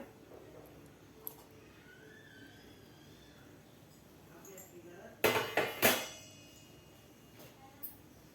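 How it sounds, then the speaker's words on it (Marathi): A metal lid comes off a pot of steamed rava and rice dhokla, a short burst of clanks and scraping around the middle, with quiet room sound before and after. "आता आपण झाकण काढून बघूया"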